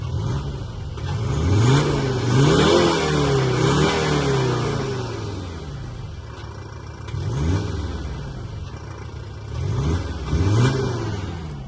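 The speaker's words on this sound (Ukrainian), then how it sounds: "От зараз я погазую трішки." A Skoda Kodiaq RS car engine with an added exhaust revs up repeatedly, rising and falling in several bursts of throttle, loud and close with a throaty exhaust growl.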